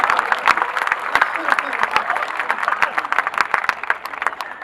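An audience at a Hindi comedy poetry show claps steadily, with dense, sharp hand claps in a sustained round of applause close by.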